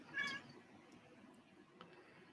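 A cat gives a single short, clear meow near the start, fairly close but not loud, followed by quiet room noise with a faint small sound later.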